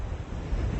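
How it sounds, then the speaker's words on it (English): Strong wind blows across Brandon Golf Course near the ninth hole and buffets the microphone with a dense, rumbling roar that swells slightly toward the end of the short burst. "Wind's going ridiculously strong that way."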